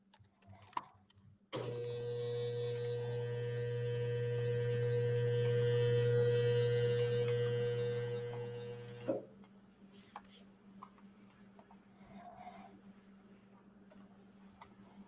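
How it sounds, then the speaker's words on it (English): A noisy household fridge kicks on with a loud, steady low hum and buzzing overtones, runs for several seconds, then cuts off abruptly, leaving faint room noise and small clicks. "That is his fridge."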